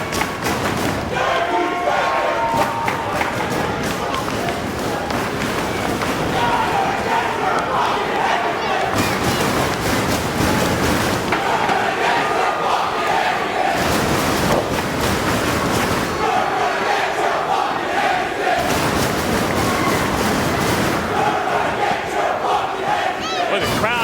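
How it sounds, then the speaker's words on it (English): A wrestling arena crowd roars, shouts and chants in rhythmic surges throughout a professional wrestling match, with thuds and slams from the ring and a commentator's voice under the noise. "the crowd is as into this match as I've seen in a long, long time"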